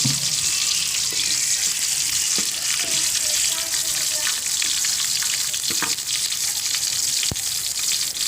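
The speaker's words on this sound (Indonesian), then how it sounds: "Kita tumis serai" Lemongrass sautéing in a pan for an Acehnese spicy-sour tuna gulai, giving a loud, steady frying sizzle up close, broken by a few sharp clicks and taps of utensils against the pan.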